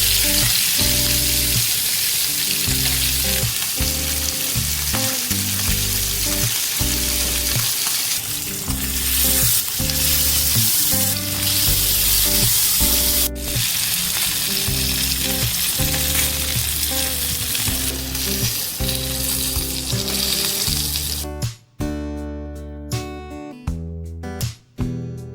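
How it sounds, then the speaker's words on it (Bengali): Koi fish frying in hot mustard oil over a medium flame, a dense, loud, continuous sizzle with crackling spatter throughout, broken by a few brief gaps near the end. "মাছগুলোকে দিয়ে ভালো করে মিডিয়াম ফ্লেমে ভেজে নেবো"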